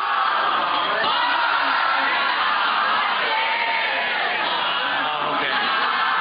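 A concert crowd at a 2006 show in Russia shouts and chants in a dense, unbroken roar of many voices, loud and sustained throughout, with occasional louder whoops rising from the mass.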